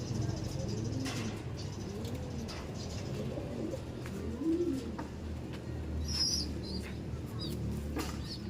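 Pigeons in a racing loft coo repeatedly in soft, low rolling calls that overlap through the whole stretch, with a few brief higher chirps, heard close under someone talking.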